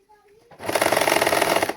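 A sewing machine stitching saree fabric together with its lining bursts into a loud, rapid, close-up running whir after a brief quiet moment with faint talk, holding steady until the clip ends.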